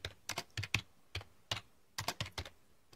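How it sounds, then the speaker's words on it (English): Close-up typing on a computer keyboard, bursts of quick clicky keystrokes separated by short pauses, with no one talking. "I'm just typing now just to show it's going to start again."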